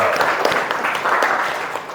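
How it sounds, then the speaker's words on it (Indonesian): A high school classroom of students breaks into a short burst of applause, many hands clapping together at once, loud and close, for about two seconds. "Tepuk tangan lagi untuk kesepakatan kita."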